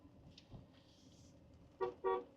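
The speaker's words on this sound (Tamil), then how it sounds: "கொஞ்சம் ஹார்ன் அடிச்சுக்கிறது பெட்டர்" Two short car horn honks near the end, the second longer, over a low engine hum and faint road noise, from a Tata Sierra EV on a curving road.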